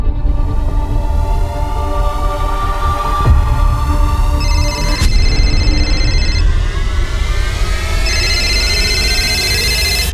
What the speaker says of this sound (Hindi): रिंग तो जा रही है